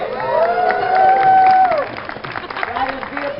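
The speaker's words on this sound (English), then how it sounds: "Hold your applause, it's not the trick." Renaissance Festival show audience breaking into loud applause and cheering, a dense wash of clapping and whoops that swells for about two seconds then thins to scattered crowd noise and voices.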